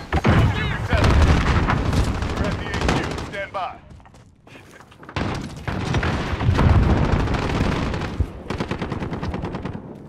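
Rapid bursts of gunfire and heavy booms fill a Call of Duty Modern Warfare 2019 multiplayer match, loud and close with a short lull midway, while someone talks excitedly over the action.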